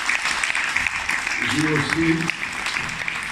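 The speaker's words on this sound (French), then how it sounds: "Je voulais faire applaudir tout le monde" Audience applause at a judo club's gathering, where the club president is giving a speech, fills the whole stretch as dense, steady clapping, with a voice speaking over it partway through.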